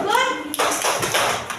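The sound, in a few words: children clapping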